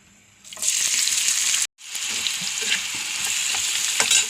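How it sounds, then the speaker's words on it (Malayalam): Loud continuous sizzling of onions frying in hot oil for chicken biryani, with a brief break midway before the crackling hiss resumes, plus occasional stirring clinks. "ഇത്തിരി കൂടി ഓയിൽ ഒഴിച്ചിട്ട് അതിൽ തന്നെ സബോള വറുത്തെടുക്കാം"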